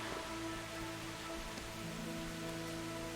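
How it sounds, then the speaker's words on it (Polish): Rain falls in the medieval video game Kingdom Come: Deliverance, a faint, steady hiss of drops washing evenly with low background tones and no voices. "Deszczyk zaczął padać."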